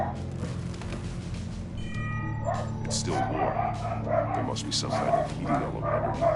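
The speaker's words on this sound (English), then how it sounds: "Sorry about my dog." A dog barks and yips a few times in the background, fairly faint beneath a voice talking over a low humming drone.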